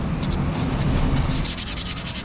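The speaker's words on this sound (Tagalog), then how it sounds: "Kapag maglilinis kayo ng clutch lining, ang gagawin nyo ay lihahin nyo lang itong part na ito." Steady abrasive rubbing of thin sandpaper on a Honda Beat FI scooter's clutch lining, continuous and close, with quicker back-and-forth strokes toward the end.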